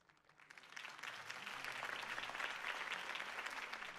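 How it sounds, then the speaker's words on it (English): Crowd applause at a political campaign rally in the Telltale Batman video game, clapping that swells from scattered hands into a dense, steady ovation and stays full and sustained. "If only Mr. Wayne, my campaign's largest backer, could have heard that applause"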